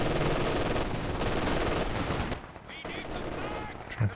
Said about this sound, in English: Another machine gun shutting down this flank attempt as well